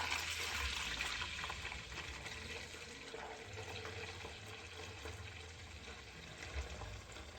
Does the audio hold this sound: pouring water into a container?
yes